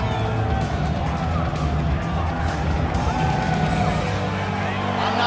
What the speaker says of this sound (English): I'm not sure I have ever heard a louder crowd in any arena in the world than this here Bell Center